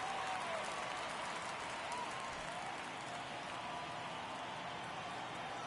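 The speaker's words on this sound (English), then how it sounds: "Got a great crowd here tonight on opening night" Opening-night crowd at a San Antonio Missions versus Northwest Arkansas Naturals baseball game applauds in a dense, steady wash of clapping and murmur heard from a distance, with a commentator's voice faintly underneath.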